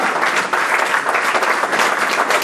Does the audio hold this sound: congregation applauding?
yes